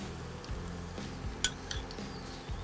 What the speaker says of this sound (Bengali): নারকেল কোড়াটা দিয়ে দিই